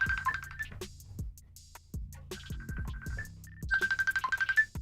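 A phone ringtone plays a melodic electronic tune, with bright repeated tones and short plucked-sounding notes, then ends in a fast pulsing run of beeps.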